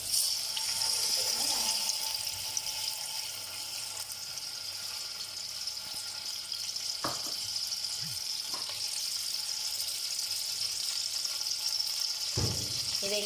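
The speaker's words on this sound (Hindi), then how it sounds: "ये देखें अब ये ऑयल गर्म हो गया।" Oil heating in a pan for restaurant-style vegetable fried rice gives a steady, soft, hissing sizzle throughout, with a few faint clinks of a utensil against the pan and no talking.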